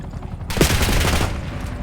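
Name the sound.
gunfire in a video game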